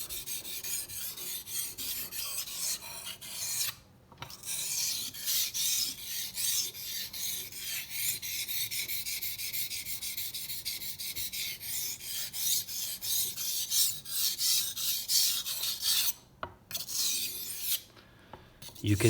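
A kitchen knife drawn across a wet water stone in steady repeated sharpening strokes, a continuous close rasping scrape with a few brief pauses between passes, no talking.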